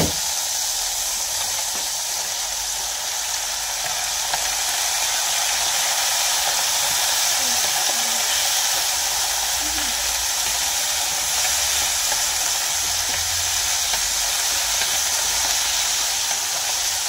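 Chopped tomato and prepared paella vegetables frying in a paella pan for Valencian paella, a steady loud hiss and sizzle running throughout with faint stirring knocks.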